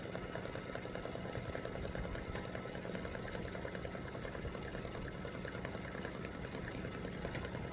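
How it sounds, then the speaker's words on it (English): An embroidery machine satin-stitches the border of freestanding lace Halloween earrings, a continuous fast rattling buzz of needle strokes at an even pace throughout, close and unbroken. "It'll do the satin stitching around that."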